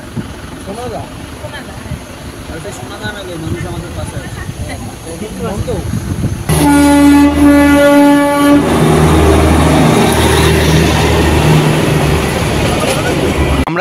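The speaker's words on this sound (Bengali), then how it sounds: "এটা হলো সোনাদা রেলওয়ে স্টেশন।" At Sonada railway station near Darjeeling, a train sounds a loud, sustained horn blast partway through, followed by heavy rumbling engine noise. Voices murmur under the background beforehand.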